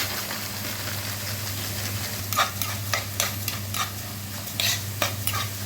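Grated onion sautéing in a pan, with a steady sizzle under several sharp stirring and scraping strokes of a utensil against the pan, close and moderately loud.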